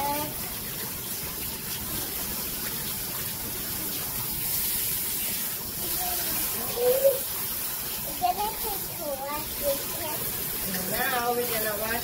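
Water runs steadily from a shower while a dog is washed, a continuous wash of spray with people speaking over it throughout.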